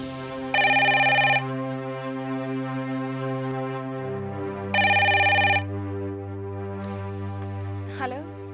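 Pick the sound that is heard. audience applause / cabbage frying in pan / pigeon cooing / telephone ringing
telephone ringing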